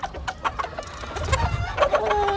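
Chickens and a rooster cluck in a gamecock pen, a close, steady run of short clucks and calls with a few longer crowing-like tones toward the end.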